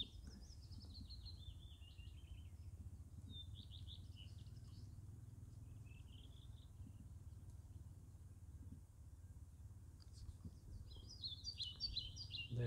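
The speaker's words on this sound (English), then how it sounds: "just enjoying my pipe and listening to the sounds of the birds" Small birds chirp and trill in short bursts at a distance, over a low steady outdoor hum.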